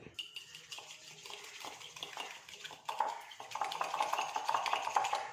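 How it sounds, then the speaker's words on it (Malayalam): A fork beats sugar mixture for a tea-time vanilla sponge cake in a bowl, making quick rhythmic clinks and scrapes that build in pace and loudness, close up with no talking. "അപ്പം നമുക്കിത് രണ്ടും കൂടി ഒന്ന് നന്നായിട്ടൊന്ന് മിക്സ് ചെയ്ത് കൊടുക്കാം"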